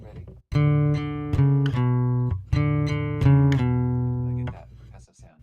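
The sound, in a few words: acoustic guitar mixing picking with percussive strumming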